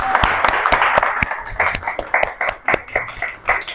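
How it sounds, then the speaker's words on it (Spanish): An audience applauds at a live cabaret talk, a dense wash of many hands clapping with sharp individual claps standing out, fairly close and steady before thinning into scattered claps. "Les pido un fuerte aplauso para ella."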